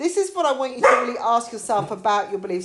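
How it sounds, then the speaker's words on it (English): A dog gives a short bark or two indoors, mixed in beneath a person talking steadily. "that's my dog having a little bark there"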